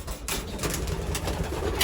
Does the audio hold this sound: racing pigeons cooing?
yes